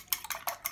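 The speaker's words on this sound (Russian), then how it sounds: "делаю вот такую вот дырочку внутри и взбиваю одно яйцо для начала" An egg whisked into flour and salt in a bowl for potato gnocchi, heard as a few quick, rhythmic scraping strokes close by with no talk.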